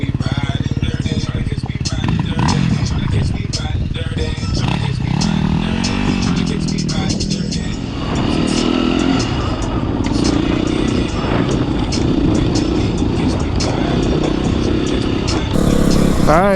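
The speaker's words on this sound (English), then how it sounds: "This shiny black WR250R going to the trails today." A Yamaha WR250R dirt bike rides the trails at Carnegie SVRA, its engine droning steadily with shifts in pitch as the rider works the throttle, while the chassis clatters and scrapes over rough ground.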